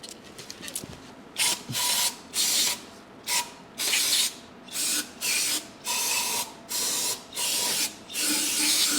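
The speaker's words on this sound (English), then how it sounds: "I'm going to use this razor blade to get off this gunk." A razor blade scrapes gunk off a Mercedes engine's gasket mating surface in about nine regular, close strokes, each a harsh rasping burst separated by short pauses.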